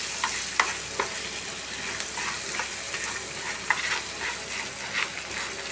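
Anchovy fry mixture with lemon juice stirred in a hot pan: a soft steady sizzle broken by a run of sharp spoon clicks and scrapes against the pan, close and without talk.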